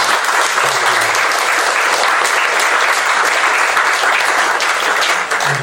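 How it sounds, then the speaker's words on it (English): Loud, steady round of audience applause at a poetry book launch, a thick wash of many hands clapping evenly throughout without a break. "big round of applause"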